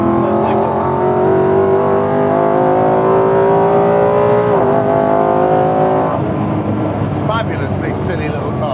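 A BMW V8-powered Mini drives and revs, its engine droning steadily with rising and falling pitch and a brief throttle change partway through, heard from inside the car under a speaking voice.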